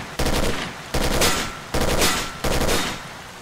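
Gunfire in STALKER: Call of Pripyat comes as four evenly spaced, loud automatic bursts, each a short rapid rattle, close and dominant with no talking.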